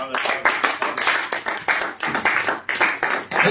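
Church congregation clapping together in acclamation, a dense run of rhythmic hand claps with steady pulses throughout, close and fairly loud.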